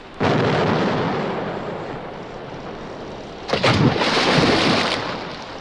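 A cannon shot bursts out as a loud booming blast that rolls away slowly, followed by a second heavy crash and rumbling that fades out, with no voices.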